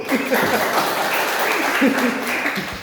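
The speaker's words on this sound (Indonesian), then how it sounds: "tepuk tangan untuk perempuan" A congregation applauds during an Easter church service, brief clapping mixed with voices and murmuring throughout.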